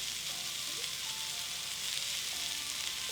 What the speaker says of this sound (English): We're gonna let this saute for about 3 to 5 minutes until the mushrooms soften.